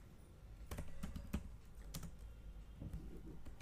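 Keys clatter on a computer keyboard during a coding session, with irregular bursts of clicks and a few sharper, louder taps standing out against a quiet room.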